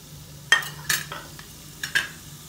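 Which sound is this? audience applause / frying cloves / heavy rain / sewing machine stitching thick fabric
frying cloves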